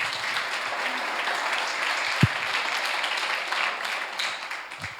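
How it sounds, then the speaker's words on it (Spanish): An audience at a round-table debate on dehesas and montados gives steady applause, a continuous rustling patter of many hands at moderate volume, with a single louder thump partway through. "Un aplauso"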